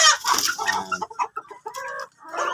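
Chickens clucking on a Philippine poultry farm raising broiler birds, several hens close by with steady overlapping clucks and calls filling the whole stretch, no voices heard.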